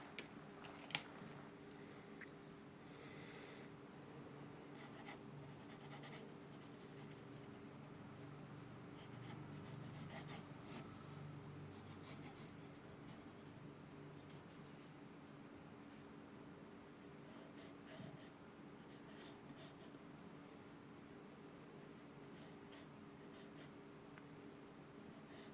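Pencil scratching steadily across paper, a soft continuous graphite scrape with small strokes and pauses, close and quiet with no talking.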